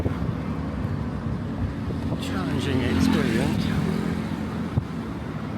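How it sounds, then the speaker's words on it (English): A bus climbs a hilly, winding road on Koh Chang island in Thailand, its engine droning steadily with wind rushing past the microphone while a person talks over it. "Koh Chang by bus."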